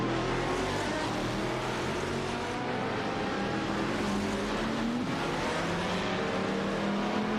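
A Chrysler Viper GTSR and a Saleen S7R race in a video game, their engines droning loud and steady with shifting pitch as they rev and pass, with no talk.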